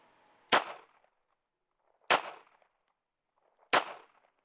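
Three sharp, loud unsuppressed shots from a CZ pistol, recorded outdoors in Arizona, evenly spaced about a second and a half apart, each a hard crack with a short decaying tail into near silence.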